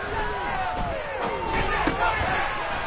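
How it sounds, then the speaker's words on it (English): A stadium crowd in a football video game roars and cheers steadily ahead of a big third down, a dense, continuous wall of voices with a few sharp accents rising through it. "The crowd getting into it as we come up on a big 3rd down."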